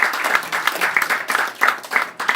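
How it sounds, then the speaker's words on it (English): An audience at a panel discussion claps in a short burst, many hands striking with a slightly uneven rhythm, close and fairly loud. "Please clap for her as well."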